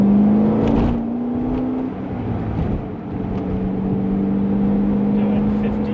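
A 2008 Corvette C6 Z06 cruising on back roads at about 55 mph, a steady low engine drone heard from inside the car with a small rise in pitch, while someone talks over it.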